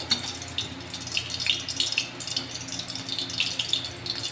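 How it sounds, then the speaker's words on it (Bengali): Green chilies fry in hot oil with a close, steady sizzle full of small crackles and pops. "এবার দেখো কাঁচা লঙ্কাগুলো ভেজে আমি সার্ভিং প্লেটের ওপরে দিয়ে দেবো।"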